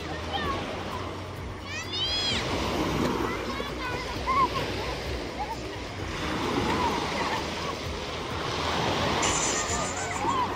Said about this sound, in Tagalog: Lumalakas na ulit ang alon.